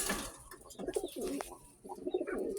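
A large racing pigeon coos softly while held in the hand, low throaty rolling calls repeating close to the microphone against a faint outdoor background.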